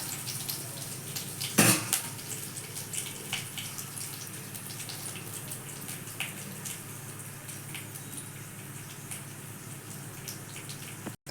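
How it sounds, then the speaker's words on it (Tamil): Chana dal and urad dal hit hot oil with curry leaves, giving a faint, steady sizzle with a sharp clatter near the start and light scattered ticks throughout. "பருப்புங்களை போட்டுடலாம்."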